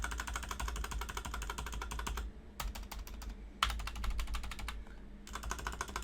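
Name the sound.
typing on GK61 mechanical keyboard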